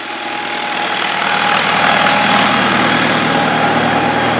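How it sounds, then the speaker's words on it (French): A tractor passing by outdoors makes a loud, steady engine rumble that grows slightly louder as it nears and stays continuous throughout, with no voices over it. "Alors là il y a un tracteur comme d'hab"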